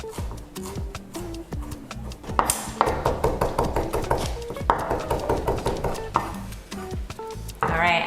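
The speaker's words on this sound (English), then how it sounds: "I'm just gonna finely chop my herbs" Finely chopping curry plant and lovage herbs with a knife on a cutting board, giving a run of quick, close, regular taps that sit under talk throughout.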